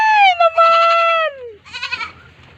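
Goats in a crowded farm pen shared with sheep give a long, loud, wavering bleat, then a shorter, shakier second bleat, close by with no talking.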